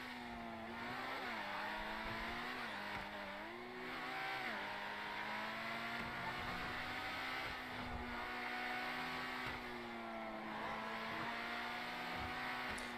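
The Krieger hypercar in GTA Online revs its engine continuously, its pitch rising and falling through several throttle blips, steady and full without any voices.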